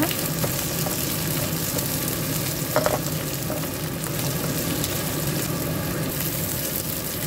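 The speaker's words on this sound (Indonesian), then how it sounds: "kemudian kita masukkan bawang bombaynya ya teman-teman. Kita tumis sampai baunya harum juga." Onions sautéing in a pan for black pepper beef, a steady, continuous close sizzle and fry with a brief clatter of stirring partway through and no talking.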